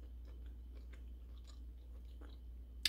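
Soft, close-up chewing of tender lobster tail dressed in butter and lemon, a run of quiet moist bites under a steady low hum, with a brief sharp click at the very end.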